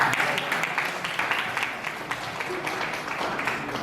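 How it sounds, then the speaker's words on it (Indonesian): An audience claps steadily, a moderate, continuous patter of many hands with individual claps standing out now and then, fading slightly toward the end. "Tepuk tangan dulu untuk yang tidak punya impian."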